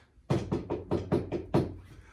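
Knocking at a door: about seven firm, evenly spaced raps in quick succession, loud and close, with no voices over them.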